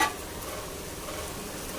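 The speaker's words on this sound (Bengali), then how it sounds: "আলুটা কষা হয়ে গেছে মশলা দিয়ে, এবার দিয়ে দেবো মটর সেদ্ধটা।" Boiled peas tipped into a pan of potatoes sautéed with spices for ghugni, giving a steady close sizzle and stirring scrape that starts with a brief louder clatter, then settles into an even hiss.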